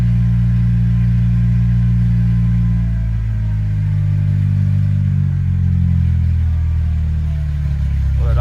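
An old yard car's engine running on fresh fuel after sitting with stale gas, a loud, close, low rumbling idle that holds steady with slight wavering and clatter throughout.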